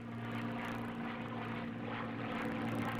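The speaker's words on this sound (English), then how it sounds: "The plane feels normal now that it's off the ground." A P-51 Mustang's piston engine and propeller drone steadily just after takeoff, a loud, continuous, even roar with a strong low hum and no talk over it.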